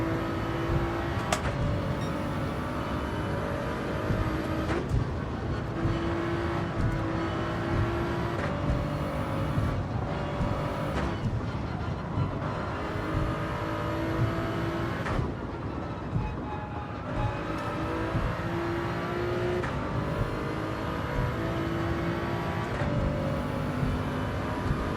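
Race car engines in the video game Gran Turismo 7 drone continuously at moderate volume, with pitch rising and falling through repeated gear shifts over a steady rumbling bed.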